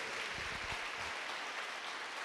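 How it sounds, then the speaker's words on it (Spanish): A church congregation applauds during a sermon, faint soft clapping spread through the room, with a few distinct low thumps early on, steady and distant. "¿Cuántos le dan aplausos al Señor por eso?"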